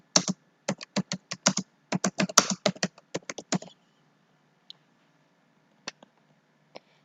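Heading text is typed on a computer keyboard as a fast burst of crisp key clicks for a few seconds, followed by a few isolated taps spaced apart in near silence.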